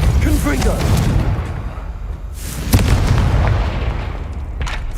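Confringo fire spell explosions in the video game Hogwarts Legacy, loud booming blasts rolling one after another with a sharp burst near the middle, mixed with game effects.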